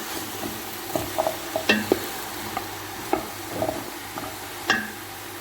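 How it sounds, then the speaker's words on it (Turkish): Carrots and garlic are sautéed with celery in a pan on the stove, with a soft sizzle beneath a series of close scraping stirs and light utensil taps at an uneven rhythm. "Havucu katıyoruz. Sarımsağı katıyoruz. Sotelemeye devam ediyoruz."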